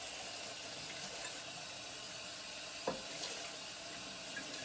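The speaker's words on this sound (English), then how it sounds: "so we'll fill this up with some water" Hot tap water running into a large bowl, a steady, quiet splashing hiss throughout with a brief knock near the middle.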